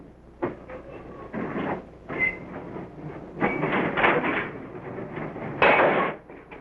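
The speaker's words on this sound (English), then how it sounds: "A brakeman couples together the cars for our train." Freight train cars are coupled together by a brakeman, giving loud metallic clanks and bangs in irregular bursts, close by, with rumbling rail noise between the impacts.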